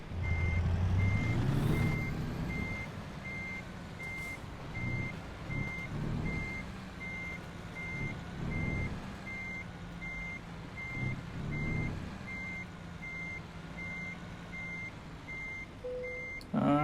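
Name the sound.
truck reversing beeps while backing into parking space, from American Truck Simulator video game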